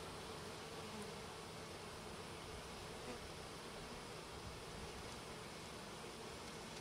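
Honey bees from a package hum during installation into a hive, a faint, even, continuous buzz with no talk over it.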